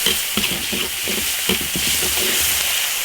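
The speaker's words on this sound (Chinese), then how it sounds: "鸭白菜放进去，把它炒香" Cabbage stir-fried in an iron wok with Sichuan peppercorns, chopped chili, ginger and scallion: a continuous loud sizzle under repeated scraping strokes of a spatula against the pan, with no speech.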